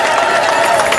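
A church congregation at an Ethiopian Orthodox gathering claps together in a brief, loud, dense burst of applause filling the space throughout.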